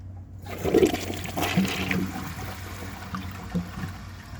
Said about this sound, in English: So I'm going to give it another flush and hold the handle.